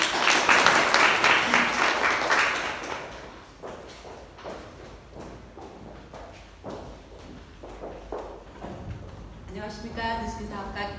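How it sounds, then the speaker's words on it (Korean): An event audience applauds loudly at first, then the clapping thins to scattered claps and footsteps as someone walks up, with a brief voice at the end. "큰 박수로 오시겠습니다"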